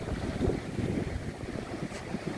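Gentle wind and calm sea waves on the public beach at Ho Tram, with a soft continuous wash of surf and breezy rumble buffeting the microphone close up, and no voices.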